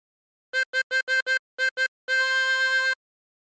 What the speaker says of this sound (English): And blow into 4 8 times.